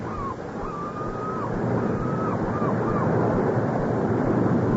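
Ocean waves rush in a steady, broad roar that swells slightly louder over a few seconds, with faint tonal whistles drifting above.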